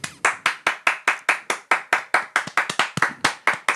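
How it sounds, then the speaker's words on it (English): A small group of podcast hosts gives a round of applause. It comes across as distinct, close handclaps in a quick, slightly uneven rhythm, roughly four per second, with no talking over it. "Give me a round of applause."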